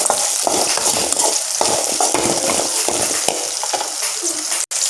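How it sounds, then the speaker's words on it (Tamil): Ginger and garlic sauté in a hot pan for a Tamil thuthuvalai chutney, a loud, dense sizzle with repeated scraping stirs of a spoon and a brief dropout near the end. "இப்போ நாம் இந்த இஞ்சியும் பூண்டையும் சேர்த்துடலாம். சேர்த்து எல்லாத்தையும் நல்லா வதக்கி விட்டுருங்க."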